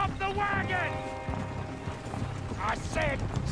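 Steady clip-clop of horse hooves during a ride in Red Dead Redemption 2, running under someone talking, with a whinny-like call and faint mechanical rattles.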